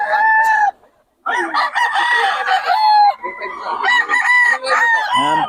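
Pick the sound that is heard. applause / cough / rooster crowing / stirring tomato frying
rooster crowing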